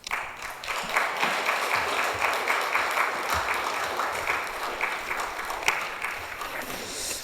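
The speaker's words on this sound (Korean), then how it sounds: "나오실 때 여러분 박수로 화답해 주시길 바랍니다" A church congregation applauds as a missionary comes forward during a Sunday service, sustained crowd clapping at a steady, moderate level with only faint voices.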